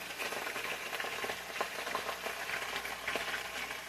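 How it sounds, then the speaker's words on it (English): Onion rings frying in hot oil: a steady, dense crackle and hiss with scattered small pops, continuous and close throughout, with no talking. "Now you want to fry these twice to get them real crispy."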